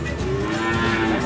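A cow at a cattle market gives one loud, sustained moo close by, filling the whole moment.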